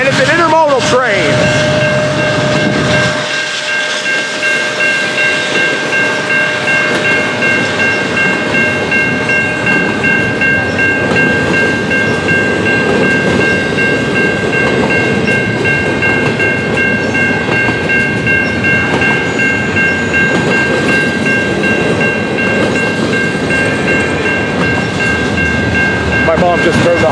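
A CN intermodal freight train rolls slowly past a crossing at night, a steady loud rumble of wheels and cars with a sustained whistle-like tone throughout, while people talk nearby.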